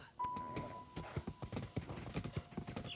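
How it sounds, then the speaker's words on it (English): Horse hooves clip-clop in a steady rhythm in Zelda: Breath of the Wild as a heavy draft-type horse trots, with a sustained tone running beneath the even hoofbeats. "He's basically a draft horse."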